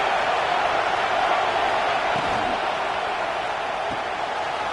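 Football stadium crowd roaring steadily through third down as the home fans get behind the defense, a dense, continuous wash of cheering and noise that holds loud for the whole stretch.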